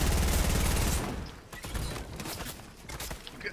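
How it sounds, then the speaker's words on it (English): Burst of rapid gunfire in a video game battle, loud and dense for the first second, then scattered sharper shots and impacts at a lower level. "I'm getting shot from behind"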